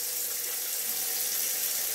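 Tap water pours steadily into a stoppered kitchen sink used for washing mustard greens, an even, close splashing hiss with no break.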